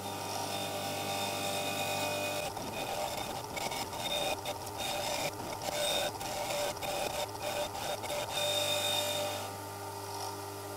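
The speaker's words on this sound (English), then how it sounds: "I'm going to go back to the linishing wheel now and just run it all the way along this edge" Linishing wheel sanding along a machined metal edge while building a Tower of Hanoi puzzle, a steady abrasive grinding whine with a rougher scraping stretch in the middle, loud and continuous with no talk.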